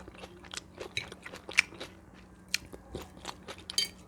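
Close, crisp bites and moist chewing of a boiled egg come in irregular bursts with small crunchy crackles, with no other sounds around them.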